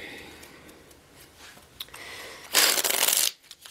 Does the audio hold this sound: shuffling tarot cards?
yes